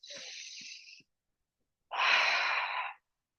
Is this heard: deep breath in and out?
yes